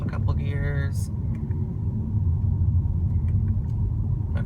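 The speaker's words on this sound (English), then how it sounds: "Let's shift up a couple gears." Cabin recording of a 2017 Audi A4 2.0T as it shifts up through gears, with a low steady engine and road rumble and someone speaking over it near the start.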